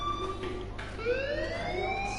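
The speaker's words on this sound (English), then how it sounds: "do you hear that fire alarm? That means you should be outside." Fire alarm ringing in the video game Life is Strange, a steady electronic wailing tone that rises in pitch partway through, heard alone with no talk.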